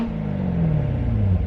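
C7 Corvette V8 with a Borla X-pipe exhaust gives a short, deep rev against its soft limiter near 4,000 rpm, a close, loud rumbling drone rising and sagging without speech.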